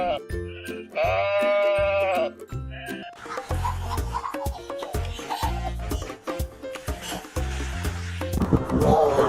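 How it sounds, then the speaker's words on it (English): A toy sheep sounds a series of bleats, loud and close, with distinct repeated baa calls separated by clicks and short pauses, alongside laughter-like bursts and light handling noise. "Lastly, we have a sheep."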